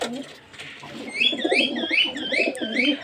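A brown quail in a backyard finch and bird colony calls in a repeated series of rising, warbling notes from about the one-second mark, fairly close and clear over a low background murmur.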